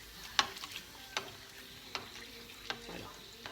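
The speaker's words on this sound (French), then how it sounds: "Une fois l'huile bien chaude et puis remise sur feu moyen, vient y déposer le beignet." A Nutella beignet frying in hot oil on medium heat, a soft continuous sizzle broken by several sharp clinks and scrapes as a spoon bastes it, close and without talking.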